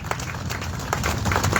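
Applause from a crowd gathered at a funeral procession for a journalist in Puerto Barrios, Izabal: a continuous patter of many hands clapping outdoors, moderately loud with dull background noise.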